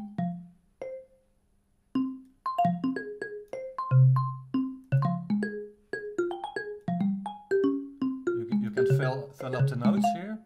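A Beat Scholar Modalics sequencer on its random function plucks out a string of bright synth notes in shifting random pitches, sparse at first and then quicker and denser, with no talking.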